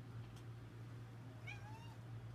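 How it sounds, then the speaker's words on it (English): A pet cat gives a single soft, rising meow, faint and fairly distant over a steady low hum in a quiet room. "Our cat. She's talking."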